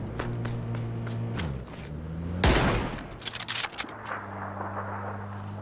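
Gunfire in the video game PUBG: a loud burst of shots rings out around the middle, followed by a quick cluster of smaller cracks, over a steady low game-engine hum.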